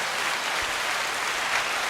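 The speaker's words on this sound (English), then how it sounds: "Little applause button." An applause sound effect triggered from a button during a podcast recording: a short burst of dense clapping noise, loud and even throughout, with no talk over it.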